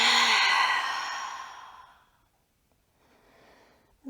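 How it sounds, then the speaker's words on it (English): A deep, full exhale through an open mouth during a vinyasa yoga breathing exercise, a long breathy sigh that fades over about two seconds, followed by quieter soft breathing and a brief sharp sound at the end. "Open up the mouth, exhale."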